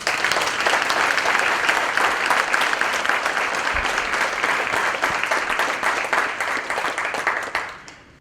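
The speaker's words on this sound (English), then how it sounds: "can we give Kat a big round of applause?" A group claps together for Kat in a sustained, loud burst of applause that holds steady for several seconds and then tapers off at the end.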